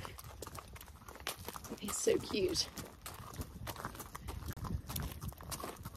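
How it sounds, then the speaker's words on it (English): Horse hooves plod at a slow walk across a field, soft and close, while a person speaks quietly over them. "Plod, plod, plod."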